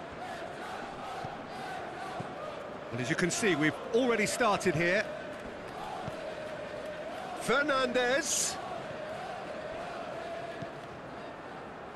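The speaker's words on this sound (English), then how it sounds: "Well, the crowd clearly like what they just saw." Stadium crowd roaring and chanting at a 2. Bundesliga football video game match between SV Darmstadt 98 and FC Schalke 04, a steady broad rumble under commentary that rises in two loud bursts of cheering.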